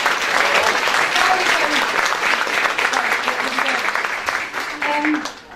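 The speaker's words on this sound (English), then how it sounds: "A huge round of applause for the work that he's done and organising" A crowd applauds steadily and fairly loudly at a Ballyfermot Youth Service heritage launch event, a dense wash of clapping that holds throughout and tapers near the end, with a few voices murmuring underneath.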